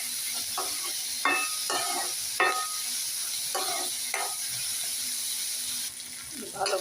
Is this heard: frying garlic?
yes